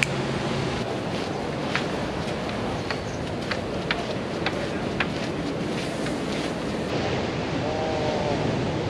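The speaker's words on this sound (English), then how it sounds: "Waves are gonna get better all day." Ocean surf at Pipeline roars steadily without pause, with wind buffeting the microphone and faint crackling texture throughout. No one speaks.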